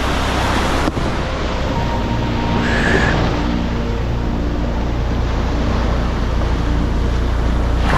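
Sea waves washing in at Guhagar beach at high tide, a loud continuous broadband roar of surf and water mixed with heavy wind buffeting the microphone, without a break for the whole stretch; no speech.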